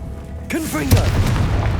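In Hogwarts Legacy a Confringo fire-blast spell goes off as a deep, swelling boom just after a brief shouted voice, the blast rolling on loud and low through the rest of the moment.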